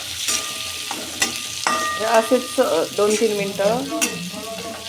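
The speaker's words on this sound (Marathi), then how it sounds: "तो मिक्स चांगला मसाल्यात परतून घ्यायचा आहे." Potato and green pea mix being stirred and sautéed in masala in a pan, a steady sizzle with repeated scraping stir strokes, close and clear, with a brief spoken phrase.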